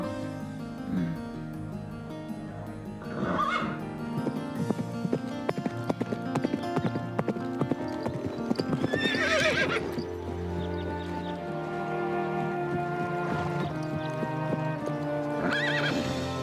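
Horses neigh and whinny repeatedly while hooves clip-clop steadily at a stable, the animals close and loud, with brief music-like tonal layers running through the scene and no talk.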